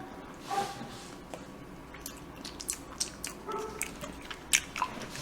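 Rainbow cube cheese with a soft, jelly-like, mango-flavoured texture being eaten up close: quiet squishy chewing, wet clicks and small smacks without any talk.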